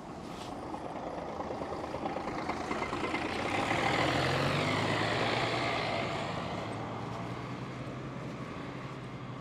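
Rush hour city traffic in Thessaloniki, Greece: a continuous wash of engines with a heavy vehicle swelling past in the middle, steady and moderately distant, with no talking.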